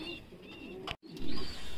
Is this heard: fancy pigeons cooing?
yes